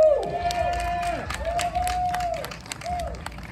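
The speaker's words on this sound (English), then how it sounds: "I just want us to give a really good round of applause to the council member, Chiosei." A crowd at a community gathering applauds and cheers, with scattered claps and whoops under a sustained whistling tone.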